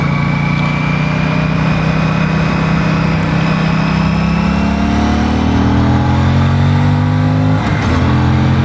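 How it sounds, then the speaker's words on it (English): A 2026 Aprilia Tuono 457 motorcycle engine revs loud and close, holding a steady drone as its pitch climbs smoothly, then a brief dip near the end before it pulls on again. "But this engine sounds so good and it performs so well."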